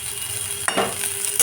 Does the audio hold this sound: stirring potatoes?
yes